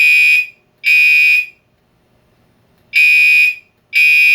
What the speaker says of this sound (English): This is what it should sound like when you hear the chlorine alarm.